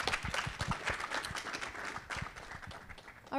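An audience at a startup pitch competition claps for the founders of a flour company as they take the stage, a short burst of brisk, scattered applause that thins out toward the end.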